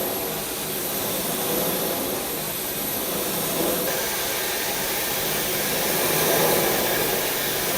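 A Dyson V12 Detect Slim cordless vacuum runs with a steady, broadband whooshing motor roar that holds level throughout and changes in tone partway as it switches modes.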